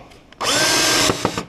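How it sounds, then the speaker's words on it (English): A power drill drives screws lightly into a window frame to hold the window in place: one close, loud whirring burst of about a second, cut off abruptly and followed by a couple of faint clicks. "So what I'm doing is just putting a couple screws in lightly"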